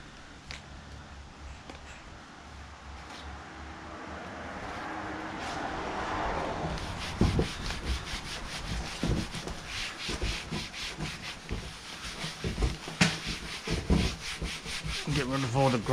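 Laminate kitchen cabinet surfaces are wiped down with sugar soap wipes, a steady close rubbing and scrubbing that turns into brisk, repeated strokes in the second half, with no talking.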